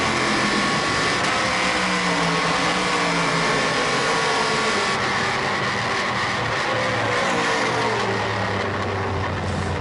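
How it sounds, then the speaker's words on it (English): A Corvette V8 race car engine is heard on board during a GT1 race lap at the Sachsenring, a loud, steady, throaty drone that shifts pitch through gear changes, with no talk. "OK, we're on board the Corvette. It's a lovely sounding V8"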